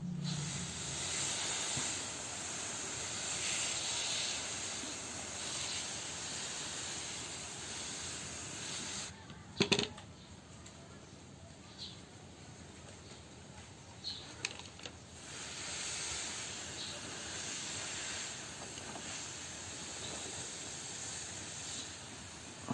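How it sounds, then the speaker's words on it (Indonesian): A hand sprayer hisses liquid fertilizer onto Aglaonema leaves in soft, steady bursts, broken by a short sharp click of the trigger partway through, with no talk over it. "Contoh yang mau saya semprotkan."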